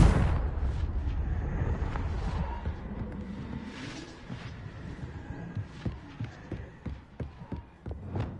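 A Confringo fire spell bursts in Hogwarts Legacy with a loud, low rumbling blast at the start, followed by a churning decay and a series of sharper impacts and crackles toward the end.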